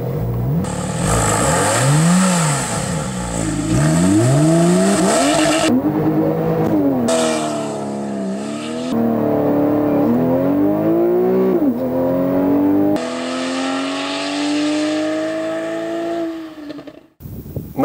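A 2013 Porsche 911 4S with a 400 hp engine accelerates hard, its engine note climbing loudly through several gears with distinct shift breaks, heard close and alone with no talk.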